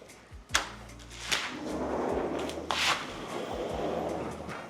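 A 12-foot sliding glass door at an RV garage home slides open with several thumps and a rolling rumble, close by, with no talking.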